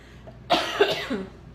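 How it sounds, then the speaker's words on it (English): A single harsh cough up close, followed by a short raspy tail, against a quiet background. "I'm coughing."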